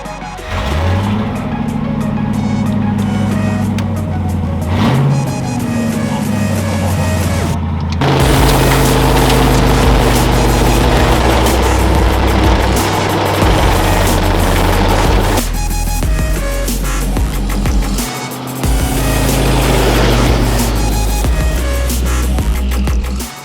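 A Land Rover Discovery 1 fitted with a V8, built up from a bush truck into a race truck, drives along in Mexico, its engine droning loud and steady throughout with rumbling surges and rattles of the body as it moves.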